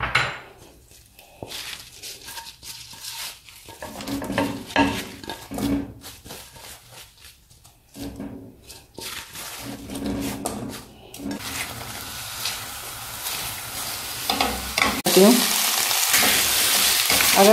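Paneer cubes tipped into a hot pan for chilli paneer, seasoned with crushed black pepper, then stirred and fried with a steady sizzle, scraping and clinking utensil strokes, the frying growing louder and denser toward the end.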